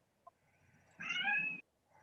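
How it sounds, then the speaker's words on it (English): A single drawn-out domestic cat meow, fairly close and clear, rising and wavering for about half a second before stopping, preceded by a tiny click and followed by quiet room tone. "Hey, you're a kitty cat"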